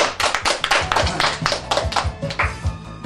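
A small group at a home birthday party claps at a brisk, slightly uneven rhythm, the close, sharp hand claps continuing throughout with no talking.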